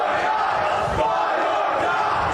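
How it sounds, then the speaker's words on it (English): Loud wrestling crowd at Bronxlandia chanting during an Invictus Pro Wrestling New York street fight, a sustained roar of massed voices with a rhythmic swell near the middle, the chant words not clearly separable. "this crowd here at Bronxlandia continuing to chant fight or die"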